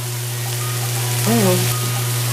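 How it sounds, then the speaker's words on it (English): Shrimp and sauce ingredients sautéing in a hot pan, stirred with a small wooden spatula: a steady sizzle under a low hum, with a brief tonal scrape midway. "I'm just going to take my little wooden spatula and saute that a little bit"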